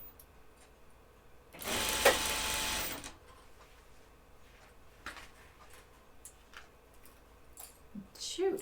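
A sewing machine stitches pants ribbing in one loud whirring run of just over a second, followed by small clicks and handling noises while a voice talks quietly.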